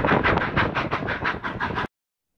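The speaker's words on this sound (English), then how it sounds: "Here's the 8 o'clock train arriving at 11:30." Durango-Silverton steam train arriving in Silverton, Colorado, heard as a steady rhythmic rumble and clatter of wheels on track, fairly close and loud, ending abruptly.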